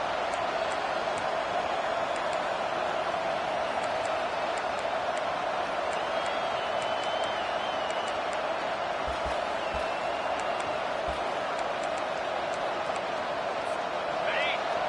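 A big football stadium crowd at a Clemson versus LSU game gives off a steady, dense roar that fills the air the whole time, while a broadcaster talks over it.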